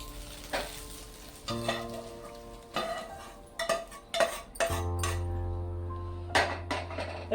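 Cooked egg bhurji scraped and lifted out of a pan with a spatula, giving several sharp clinks and scrapes of metal on the pan over a steady soft sizzle of frying oil, close and fairly quiet, with no talking.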